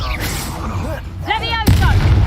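A Bombarda spell explosion in a video game lands as a sudden loud boom near the end, preceded by a shouted voice and whooshing magical effects.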